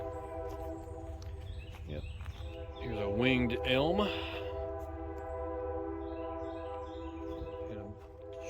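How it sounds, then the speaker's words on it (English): A train rumbles in the background with a steady low hum and sustained tonal drone on a wooded trail. Someone talks briefly over it, while faint birdsong comes and goes. "And a train in the background, sorry about that."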